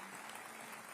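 Conference audience applauding during award photos at a Liberal Democrats party gathering, a steady dense wash of many hands clapping that holds evenly throughout, moderately distant and without a break.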